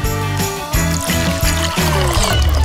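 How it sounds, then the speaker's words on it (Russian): Water poured into a bottle, a steady close splashing pour with gurgling trickles and uneven bursts as the stream misses and hits the neck. "Ладно, сейчас еще налью."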